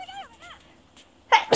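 A single sharp sneeze bursts out near the end, preceded by a couple of faint whimpering or vocal sounds, close and fairly loud.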